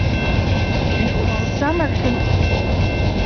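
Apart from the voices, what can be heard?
train railroad cars passing along the rails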